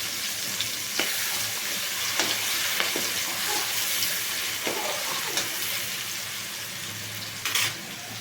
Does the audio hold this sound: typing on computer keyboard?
no